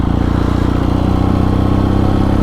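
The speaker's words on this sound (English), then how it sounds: "I'm just taking it very tentatively around here because I really don't know the bike well enough" A new BMW motorcycle ridden slowly and gently, its engine a loud, close, steady throbbing drone with an even pulsing rhythm throughout and no voices.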